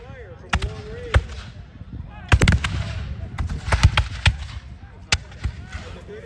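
Scattered musket volleys crack out in a Battle of Bunker Hill video game, sharp isolated shots and small clusters popping at irregular intervals over a murmur of battlefield ambience.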